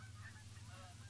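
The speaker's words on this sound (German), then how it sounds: "es sind doch immer noch Gänse da." Geese honking in theHunter: Call of the Wild, a short burst of calls over a steady low hum, fairly faint and with no talk.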